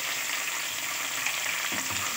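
Cumin seeds and whole black peppercorns sizzle and crackle in hot oil, a dense, steady frying hiss heard close up with a brief clink of stirring near the end.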